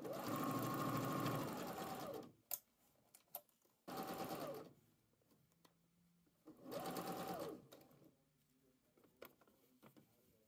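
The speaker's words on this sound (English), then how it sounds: "I started sewing at the center back and sewed from there to the shoulder dot." A sewing machine stitches a bodice seam from the center back toward the shoulder in three loud, fast-rattling runs. Quiet pauses with small handling clicks separate the runs.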